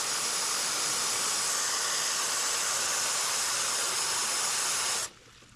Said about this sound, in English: you can hear the water just going down from level to level